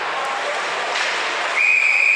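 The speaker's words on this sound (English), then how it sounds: "And we'll have a whistle." Referee's whistle at a college ice hockey game, Colorado versus Utah, a steady high tone sounding near the end over a constant arena crowd roar.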